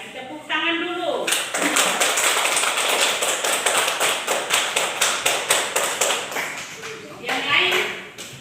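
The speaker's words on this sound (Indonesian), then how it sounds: "Jadi baik, tepuk tangan dulu." Classroom of students clapping together in a dense burst of handclaps that settles into a steady rhythmic beat, with a teacher's voice heard briefly before and after.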